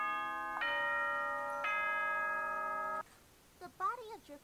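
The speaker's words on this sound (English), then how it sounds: "Ding dong, bing bong." A two-note ding-dong chime from the game Danganronpa: Antebellum rings out clearly, its tones sustaining before cutting off, followed by a few faint vocal sounds.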